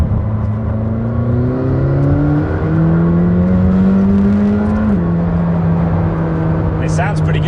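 A McLaren 620R accelerates on a public highway, its engine heard close and loud from inside, pitch rising through gears with a sharp shift near the end and a steady roar throughout.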